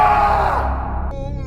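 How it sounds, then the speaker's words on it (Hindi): A man's long, anguished scream of pain in a horror tale, loud and close, holding strong at first and then trailing off into a strained, fading wail. "अली की चीख से पूरा गांव और आसपास का इलाका गूंज उठा।"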